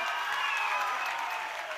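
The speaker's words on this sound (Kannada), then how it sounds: "ಚಪ್ಪಾಳೆ ಹೊಡಿಬೇಕು ನೀವು" An audience at a public women's event claps steadily throughout, a dense, even wash of applause filling the hall without a break.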